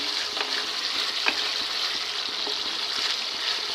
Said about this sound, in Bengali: অনবরত নাড়াচাড়া করতে হবে নাহলে মশলাটা তলায় লেগে যাবে